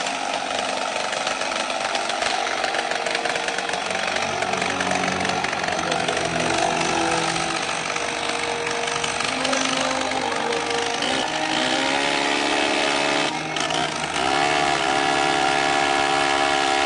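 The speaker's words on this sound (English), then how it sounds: "Today in Costa Rica, the sound of the chainsaw is becoming rare." A chainsaw roars continuously in a Costa Rican forest, its loud buzzing whine shifting pitch as it cuts, with no pauses across the stretch.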